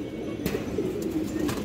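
A silver-necked female pigeon and others coo in soft, low rolling murmurs nearby, a steady burble with a couple of brief rustling bursts.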